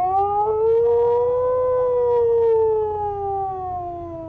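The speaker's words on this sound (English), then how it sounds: "It's a classic siren." Police car siren from the BeamNG.drive video game, a classic wailing tone that slowly rises and falls, loud and close, running steadily on its own with no talk.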